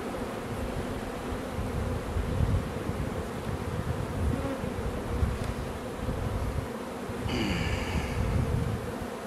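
Honey bees buzzing around an opened, crowded hive during a beekeeping inspection: a constant close droning hum with individual bees passing near, plus a brief higher buzz toward the end.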